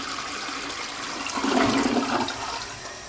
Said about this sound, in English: Next time, flush twice.